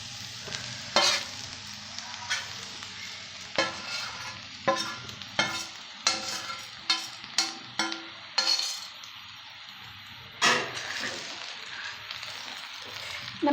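A spoon repeatedly scrapes and clinks through idli upma frying in a pan, with irregular stirring strokes over a soft, steady sizzle, close and moderately loud.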